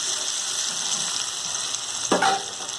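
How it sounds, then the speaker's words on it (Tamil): A pan of garlic gravy sizzles steadily, then tamarind water splashes in near the end with a brief burst of bubbling hiss. "இப்போ புளிக்கரைசல் கரைச்சி வச்சதை ஊற்றிக்குவோம்"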